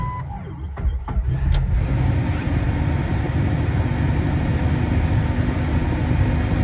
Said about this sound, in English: The blower motor doesn't want to turn off.